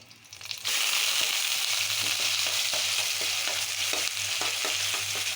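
Onion paste, garam masala and two green chillies frying in a pan, a loud, steady sizzle that starts abruptly and continues throughout, with occasional stirring scrapes and soft knocks.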